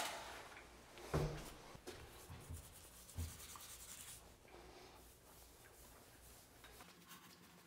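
Grout joints around a tub shower are smoothed during the first wash with faint, irregular rubbing and scrubbing strokes, broken by a few soft knocks.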